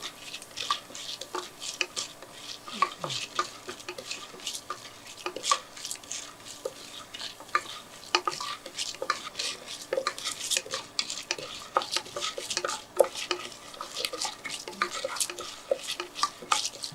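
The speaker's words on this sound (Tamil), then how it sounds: "கடுகும் பொரியுது, இதுவும் நிறம் அப்படியே லேசாக மாற ஆரம்பிச்சிருக்கு" Dried red chillies and mustard seeds fry in hot oil for rice rava tamarind upma while a utensil stirs the pan, giving a steady crackle and pop with repeated scraping strokes throughout.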